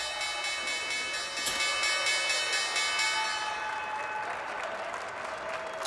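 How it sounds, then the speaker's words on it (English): The New York Stock Exchange opening bell on Wall Street rings over a loud, steady crowd of applause and cheering on the trading floor, with a sharp strike partway through and clapping carrying on to the end. "we're taking a look at the opening bell on Wall Street."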